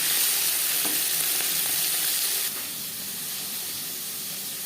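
Bata fish frying in oil gives a continuous bright hissing sizzle with faint clicks, loud at first and then settling slightly softer partway through.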